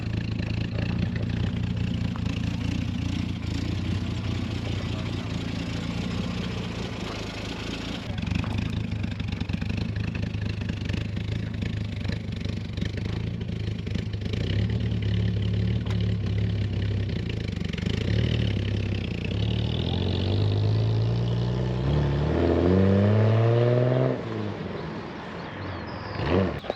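A 1971 Triumph Vitesse classic car idles steadily with a low engine hum, then revs and pulls away, its pitch climbing through the gears near the end.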